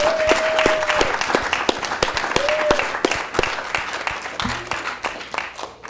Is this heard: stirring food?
no